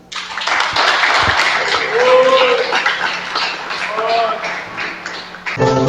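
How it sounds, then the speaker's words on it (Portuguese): A church congregation claps for Jesus at the close of a sermon. Steady crowd clapping runs through, with voices and a singing tone mixed in, ending in a burst of sharper claps. "as palmas para Jesus"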